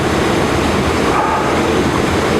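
A loud, constant roar of rushing water fills the whole clip, dense and unbroken, from waterfalls close by in Rumbling Bridge Gorge.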